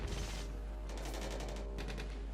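Rapid bursts of WWII gunfire in the Company of Heroes Stalingrad battle, a dense rattling fusillade of overlapping shots that stays loud and steady throughout with no one speaking.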